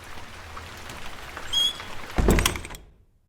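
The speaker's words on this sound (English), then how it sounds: "Come out of the rain." Steady rain patters outside in a soft continuous hiss, broken by a chime and a heavy thunk like a door closing, before everything cuts to silence.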